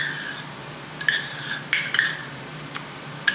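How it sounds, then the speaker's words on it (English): A spoon stirs thick peanut butter in a bowl, giving a few sharp clinks and scrapes against the rim spaced over a quiet background, with no talking. "Give that a little stir. Stir that in a little bit."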